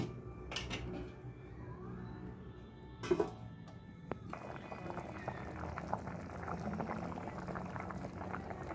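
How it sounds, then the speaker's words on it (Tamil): Vermicelli simmers in water in a covered pot for a semiya kesari, a soft steady bubbling close by, broken by a few sharp clinks of the lid and utensils. "இது நல்லா வெந்து தண்ணி சுண்டி வரட்டும்."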